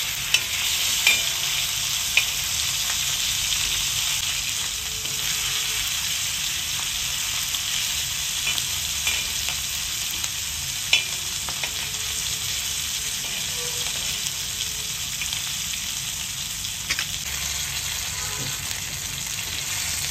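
Pomfret fish frying in hot oil as it is turned and stirred in a pan: a loud, steady, close sizzling hiss runs throughout, dotted with a few light clinks and scrapes of the utensil, no voices.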